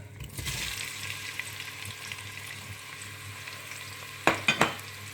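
Onions sizzle and fry in hot oil for a chicken palak curry, a steady broadband hiss that runs throughout, broken near the end by a few sharp spatters or stirring clatters.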